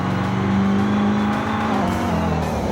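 Super V8 race cars from the late 1990s piling into a crash after late braking, loud engines roaring continuously up close, with a tire squeal edge and a sustained whining tone throughout.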